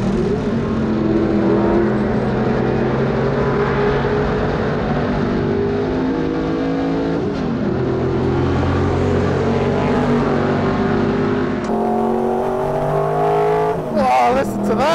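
A 1981 Group 2 Rover SD1 touring car, rear-wheel drive with no driver aids, roars loudly and continuously at close range on track. The engine pitch climbs and drops through several gear changes.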